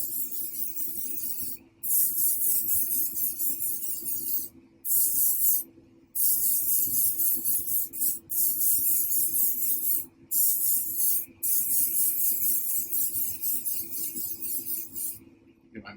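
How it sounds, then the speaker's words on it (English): An airbrush-style sprayer mists paint onto a sculpted Hulk statue in close, loud hissing bursts, about six long sprays separated by brief pauses, with no voices. "we're going to come in here and we're going to mist this on"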